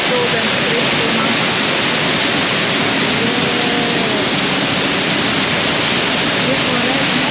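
An Estonian waterfall roars with a loud, steady, broadband rush that never lets up, while a person speaks faintly beneath the noise.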